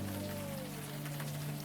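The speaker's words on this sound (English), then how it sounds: "She stands at attention, struggling to retain her dignity in the pouring rain." Steady pouring rain in the video game Unavowed hisses as a constant, even wash of noise with a low tonal hum underneath and no talking.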